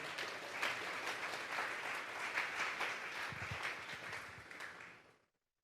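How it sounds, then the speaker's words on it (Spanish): A church congregation at a Sunday service applauds for several seconds, a dense steady wash of clapping that holds level and then stops abruptly near the end. "Vamos a darle un fuerte aplauso pues al Señor."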